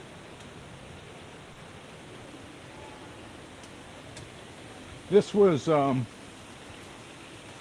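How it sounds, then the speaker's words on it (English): Rain comes down steadily onto open water as a soft, even hiss throughout, with a brief spoken phrase near the end. "there's a matte finish on the water because of all the rain coming down."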